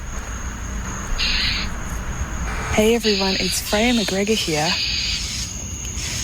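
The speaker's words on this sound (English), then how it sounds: "that sound is a really angry mockingbird" An angry northern mockingbird calls harshly at a cat in a Tuscaloosa neighborhood, giving a few short bursts of chattering, harmonic scolding notes. Someone talks over the calls, and a steady high insect drone sits behind everything.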